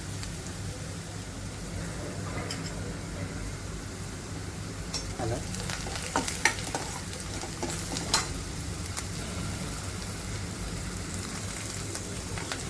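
Onion, garlic and ginger sizzle steadily in a hot pan as a spoon stirs them around, a close, continuous crackle and hiss with a few louder scraping clicks of the spoon.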